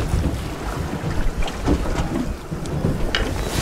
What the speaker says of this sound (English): The wind is throwing me off a bit.